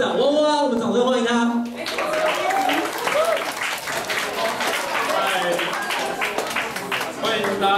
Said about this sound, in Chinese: 社长哇哇，我们掌声欢迎他。